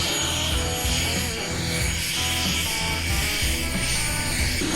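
Loud aircraft noise on the ramp beside a blacked-out Cirrus Vision Jet in Naples, Florida: a dense, continuous engine roar with a steady high whine, close and unbroken, with no talking.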